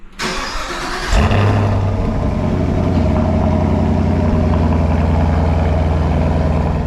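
A naturally aspirated 6.2-liter V8 in a sixth-generation Chevrolet Camaro cranks and fires up, then holds a loud, deep, burbling exhaust rumble close by, steady with slight revving.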